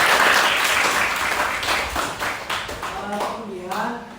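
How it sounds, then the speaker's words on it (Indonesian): Audience applause, dense clapping at a school gathering that fades after a few seconds as a voice begins talking over the tail end. "Tepuk tangan untuk Abi."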